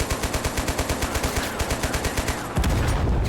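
Rapid automatic gunfire from a tank in the Total Conflict: Resistance video game, a steady burst of evenly spaced loud shots for over two seconds, then a heavy continuous rumble takes over.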